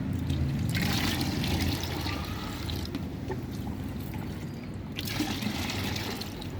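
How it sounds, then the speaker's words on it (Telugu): About four litres of water pour and trickle steadily up close, with splashy swishing from mixing and a couple of louder gushes. "ఇప్పుడు నాలుగు లీటర్ల వాటర్ మనం కలుపుకోవాలి"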